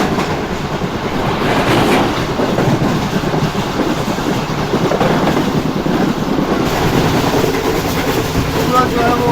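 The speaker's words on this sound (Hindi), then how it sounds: "ट्रेन भाई बहुत ज़बरदस्त स्पीड में वो स्किप किया ट्रेन ने जंगशाही को" The Karakoram Express rushes through Jungshahi station at high speed on a winter run, a loud, continuous rumbling roar with wind buffeting and faint rhythmic rail clatter.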